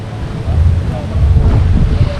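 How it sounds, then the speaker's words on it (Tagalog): Strong wind during a motorcycle adventure ride from Gabaldon to Dingalan, heavy low-pitched buffeting on the microphone that surges in two loud waves, close and continuous. "Grabe lakas ng hangin."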